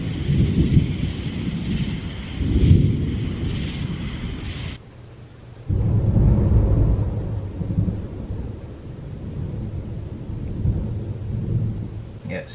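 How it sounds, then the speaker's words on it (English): A thunderstorm with deep rolling thunder rumbles and steady rain, one long roll fading and a second swelling up after a brief lull, loud and close throughout. "Thunderstorms. I love thunderstorms."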